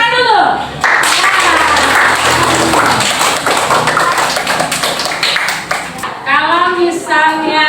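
Students in an Indonesian classroom clap their hands together in a fast, steady burst lasting several seconds, close and loud, with children's voices and a teacher's speech audible just before and after.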